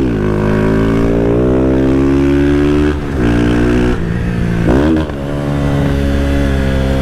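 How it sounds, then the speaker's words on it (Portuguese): A Honda Fan 160 motorcycle with a Dore exhaust runs loud and close with a steady droning engine note, rising and falling in pitch as it shifts and decelerates, with brief dips in level. "Mano, que moto que pipoca, parceiro."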